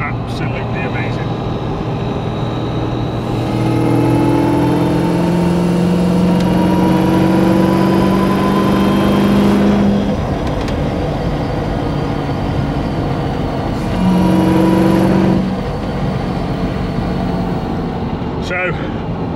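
A supercharged LSA V8 in a Land Rover Defender accelerating from inside the cabin, with a steady droning engine roar that rises twice in pitch and loudness as it revs up.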